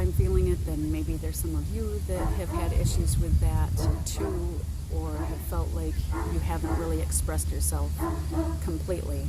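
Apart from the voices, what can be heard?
big dog barking, neighbor's dog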